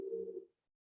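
A single low dove-like coo rises nearby within meditation music, then fades into silence after about half a second.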